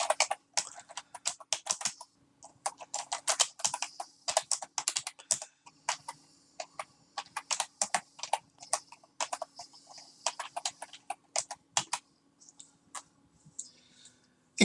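Text is typed rapidly on a computer keyboard, giving a long run of crisp, close keystroke clicks in uneven bursts with short pauses between them.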